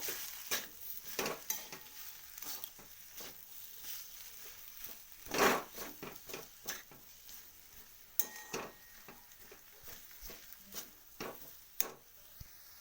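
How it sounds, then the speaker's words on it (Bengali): A potato dish with fenugreek leaves and ground black pepper is stirred in a pan, with repeated scraping strokes and light clinks over a soft sizzle, close and fairly quiet. "এটা ভালো করে একবার নাড়িয়ে নেব"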